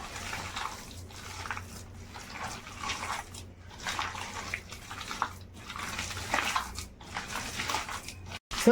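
Cabbage and onion pakoda batter with eggs and gram flour is squished and mixed by hand in a bowl, wet squelching strokes repeating in bursts, close and moderately quiet.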